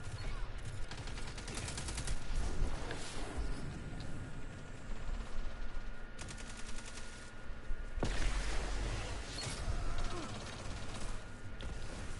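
Dense, overlapping bursts of video game gunfire from a firing squad crackle nearly continuously, with shots blending into a steady barrage at moderate volume.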